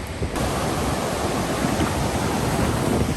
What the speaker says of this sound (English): Boy, the wind is a bit harsh.